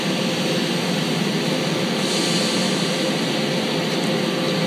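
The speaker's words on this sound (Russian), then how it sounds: "А здесь вот обычный старый поезд." A loud, steady rumble of an old train sitting at a platform in Milan's railway station, broad and continuous with no voices.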